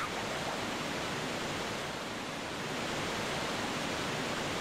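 Waterfall in Zelda: Wind Waker HD, a steady broadband rushing roar of falling water, constant and fairly loud with no other sounds.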